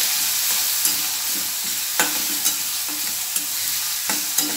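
Moong dal, garlic and green chili sauté in oil over lowered heat, a continuous hiss with regular spoon scrapes and taps against the pan every half second or so, close and without speech.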